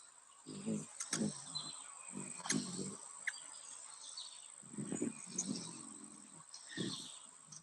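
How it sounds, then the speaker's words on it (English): Small, high-pitched chirps of hummingbirds, sounding as thin, repeated tweets scattered over a steady insect-like background hiss, with intermittent low rustling or handling noises throughout. "it's the sound of hummingbirds"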